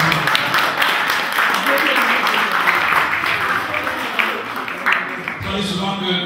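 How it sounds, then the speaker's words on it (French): An audience at a book event applauds, a dense wash of clapping from a crowd that swells and then fades, with a voice speaking over it. "Et je demanderai un tonnerre d'applaudissements aux hommes aussi."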